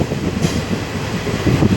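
Inside an Azimganj passenger train, a steady low rumble of wheels on track runs throughout, with a faint rhythmic clatter of the carriage and a brief brighter hiss near the start.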